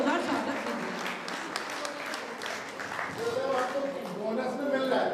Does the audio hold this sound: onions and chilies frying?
no